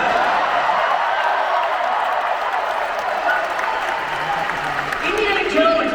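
Dense crowd applause and cheering fill a large audience hall at the D23 Disney Parks & Experiences Showcase, a steady roar of clapping and whoops held at high level throughout with no break.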